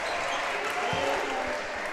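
Crowd roaring and applauding in a high school boys' varsity basketball tournament gym after a layup and-one, a dense sustained wash of cheering with a sneaker squeak or ball thud near the middle.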